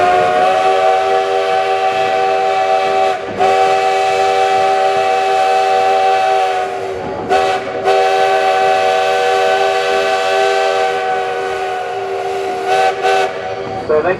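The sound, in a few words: steam train arriving at Hesston Junction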